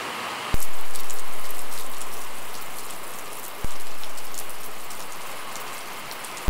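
Steady rain pattering hard on a surface nearby, a dense hiss with two sharp knocks partway through.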